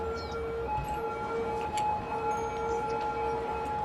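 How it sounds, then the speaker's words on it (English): Faint ambulance sirens wail steadily in the city-building game Cities: Skylines, distant and thin over a dense low background rumble, with no speech. "Yeah, all the ambulances going down there."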